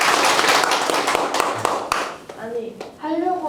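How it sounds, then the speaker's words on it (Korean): Audience applause at a Korean lecture event, dense broadband clapping for about two seconds that thins out, followed by voices talking over scattered claps. "우리 큰 박수 한번 부탁드립니다."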